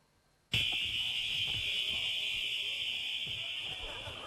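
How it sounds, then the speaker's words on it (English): A building's fire alarm bursts on suddenly and rings continuously, loud and piercing, holding steady to the end. "Harris set off the fire alarm on his way out a back door and to his car"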